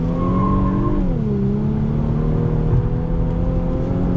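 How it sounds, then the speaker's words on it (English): A 2019 Infiniti Q50 Red Sport 400 engine drones loudly and steadily, its pitch stepping down sharply as it downshifts from fourth to second under braking, then holding a lower rumble. "On the brakes, downshift 4th, 3rd, 2nd."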